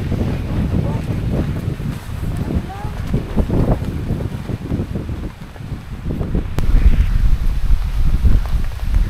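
Strong night wind buffeting a campsite with tents, a loud continuous rushing roar with gusty swells and heavy rumbling buffeting against the microphone, rising stronger toward the end.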